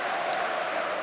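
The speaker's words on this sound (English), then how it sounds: "listen to the crowd now, 1-0 up" Football crowd roaring at a Scotland World Cup qualifier against Belarus just after Scotland go 1-0 up: a dense, continuous wash of stadium noise, loud and unbroken, with no distinct voices emerging.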